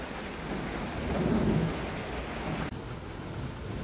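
Heavy rain pours down steadily during an autumn storm under an orange weather alarm, while a low roll of thunder swells and fades in the middle, the downpour dense and constant throughout.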